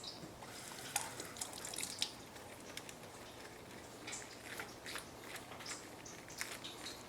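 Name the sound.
rinsing lettuce under running tap water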